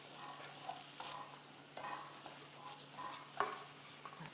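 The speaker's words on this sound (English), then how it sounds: "we're going to add some onions to it, about a half a cup of onions, and get this sauteed." Half a cup of onions sautéing in a pan, a soft steady sizzle with intermittent stirring scrapes and light clinks, close and fairly quiet throughout.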